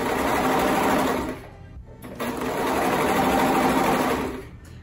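A sewing machine stitches a circular pattern with the presser foot down, a close, loud, steady whirring hum that eases briefly before resuming at full speed.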